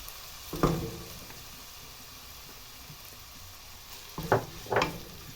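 A Bolognese sauce of minced beef and tomatoes simmers in a pan under a soft steady hiss, broken by two brief scraping stir strokes, one early and a double one near the end.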